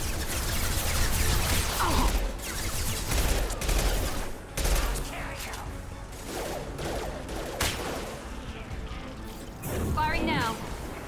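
Video game gunfire from Mass Effect 2 on Insanity difficulty: dense bursts of shots and rapid fusillades crackle loudly throughout, mixed with combat effects while voices speak over the battle.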